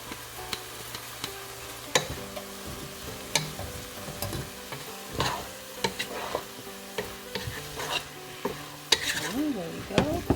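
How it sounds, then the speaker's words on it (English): Carrots and celery frying in a pot for chili, stirred steadily with repeated scrapes and knocks of a utensil over a constant sizzle, close and clear with no talking. "Next, we can add in our carrots and celery."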